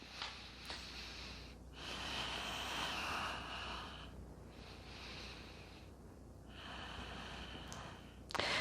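During a low yoga bridge pose with a block squeezed, long audible breaths sound up close: slow, airy inhales and exhales, several in a row, with quiet pauses between them and no talking.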